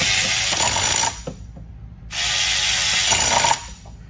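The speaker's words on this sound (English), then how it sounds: "So in the next clip, we disconnect the cam gear from the camshaft." A hand ratchet working on an engine during a teardown, loosening the cam gear from the camshaft: two bursts of fast, loud clicking about a second long each, separated by a pause with faint metal clinks.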